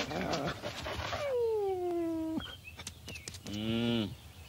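A cartoon dog in a French-dubbed Simpsons episode whines in long drawn-out tones and gives short yips, with some panting and a brief burst of voice at the start.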